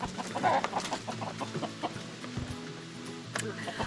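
Chickens cluck and squawk nearby as they are caught with a big net, short agitated clucks coming in irregular bursts with some rustling movement.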